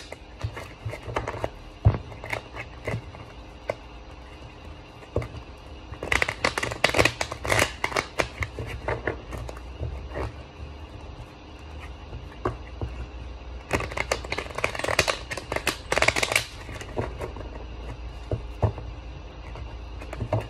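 Oracle cards shuffled for a reading, several bursts of rapid riffling and flicking, close and clear, separated by quieter handling.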